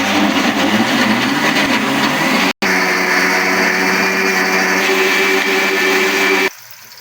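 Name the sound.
blender mixing gram flour batter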